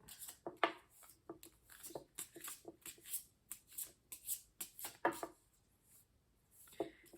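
Tarot cards are shuffled close up in a quiet room, a run of soft rapid riffles and taps, some cards slipping loose.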